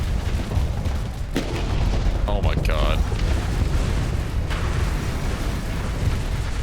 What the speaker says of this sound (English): missiles and explosions